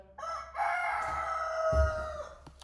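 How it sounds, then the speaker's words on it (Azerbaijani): A rooster crows once, a long drawn-out cock-a-doodle-doo heard at moderate distance over a low background rumble. "Xoruz sizin əvəzinizdən deyir."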